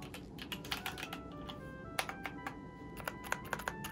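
Keystrokes on a mechanical computer keyboard fitted with Death Note themed keycaps, a quick irregular run of close, crisp clicks with no talking.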